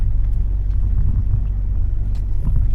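A truck lurches over bumps and potholes while pulling in to park, a loud, steady low rumble of engine and chassis with faint knocks on top, heard from inside the cab without talking.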